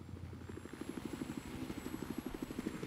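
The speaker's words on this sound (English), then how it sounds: "I saw somebody's helicopter" A video game helicopter's rotor beats in a steady, fast chopping rhythm, close and loud with a low engine drone underneath, and no one talks over it.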